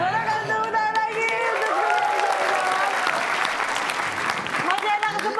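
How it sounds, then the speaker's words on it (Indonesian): An audience applauding at a comedy stage show, dense and sustained clapping that fills the room from start to finish, with a voice speaking over it near the end. "Boleh kasih tepuk lagi."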